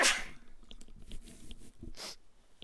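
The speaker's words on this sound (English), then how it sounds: "I sneezed." A single loud sneeze bursts out at the start during a Darkest Dungeon play session, followed by quieter breathing and small mouth noises.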